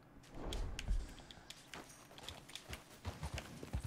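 Horse hooves in Red Dead Redemption 2 clip-clop at a walking pace, a quiet and uneven series of soft thuds and taps.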